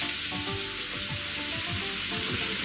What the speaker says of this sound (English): Add the oil, butter, and onions, and cook onions until lightly golden.